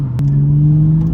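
A Toyota Supra MK5 engine revs briefly, its intake note a close, steady droning hum after a short sharp onset, heard alone.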